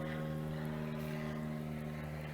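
An airplane near Tamiami Executive Airport drones overhead with a steady tonal engine hum, mixed with wind through trees on a neighborhood walk.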